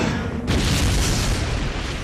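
Grenade blasts in Resident Evil Code: Veronica X: a dull boom is already ringing out, then a second sharper burst hits around midway and rolls into a sustained, noisy rumble through the end.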